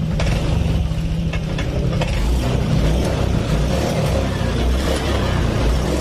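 A Honda Vario Techno 125 scooter engine with a leaking, low radiator runs loud and close in a rough, unsteady drone with irregular knocks, as if struggling and faltering.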